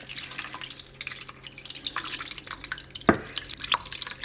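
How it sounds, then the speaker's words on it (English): Soup mixture poured over chicken pieces for a baked chicken dish, dripping and splattering wetly in a steady patter with a sharper splash near the middle, close and moderately loud with no talking. "Now, it says pour soup mixture over all."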